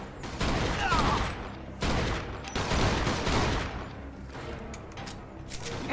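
Bursts of gunfire from the Mafia II video game crackle in rapid volleys, loud and close, with brief gaps between clusters of shots.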